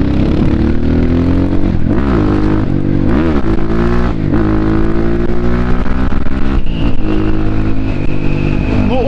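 A BSE Z7 motorcycle engine revs continuously while riding, its pitch rising and falling through gear changes, loud and close with no voices.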